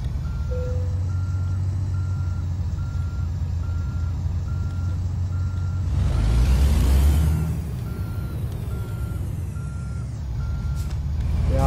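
Reversing beeps from a truck backing up in American Truck Simulator, a steady evenly spaced series over a constant engine drone, with a hiss of air brakes midway.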